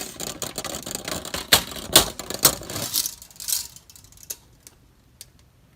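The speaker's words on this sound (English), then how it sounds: "So if I go here and I extend this tape measure" A metal tape measure is pulled out beside a Jeep JK during a Teraflex 2.5-inch front lift install, giving several sharp ratcheting clicks and snaps close by, then fainter ticks trailing off into quiet.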